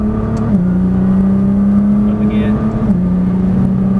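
Nissan GT-R accelerating hard on a track, a loud sustained engine roar that steps down in pitch at each upshift, heard close from inside the car.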